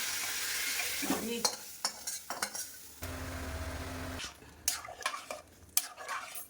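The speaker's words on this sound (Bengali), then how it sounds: "যে মশলা আদাও দিয়ে দিয়েছি ভাজা হয়ে গেছে" Spices and ginger paste fry in a pan with a soft sizzle, broken by clinking stirs and scrapes of a utensil against metal, a brief steady hum midway, and sharp clatters toward the end.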